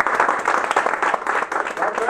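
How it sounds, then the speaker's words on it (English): An audience at a golf tournament media conference claps in a quick burst of applause, dense, rhythmic handclaps rising and falling close by. "Give him another applause"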